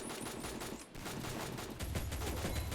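Rapid gunfire from a simple gun in the mobile shooter Free Fire, a dense, loud run of bursting shots that carries on steadily with a heavier thump partway through.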